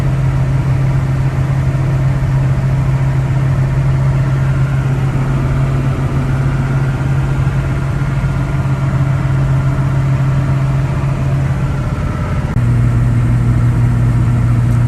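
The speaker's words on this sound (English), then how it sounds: "Just listen to that engine." A large M1008 CUCV military truck engine idles steadily with a deep, even rumble, loud and close, running alone for the whole stretch.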